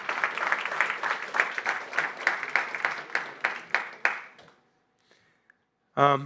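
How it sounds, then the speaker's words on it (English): Conference audience applauds as nominees for the WEG Awards 2022 are announced on stage: a few seconds of clapping with distinct beats that fades out into near silence before a voice starts speaking. "Applause!"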